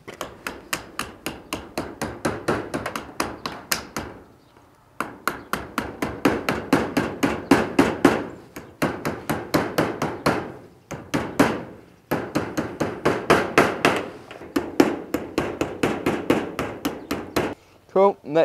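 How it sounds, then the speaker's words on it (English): Hammer nailing down shed roof pieces during DIY shed construction: bursts of rapid, loud, close metallic blows in steady rhythm, broken by short pauses between runs. "And then I'll grab my hammer and I'm going to hammer these down."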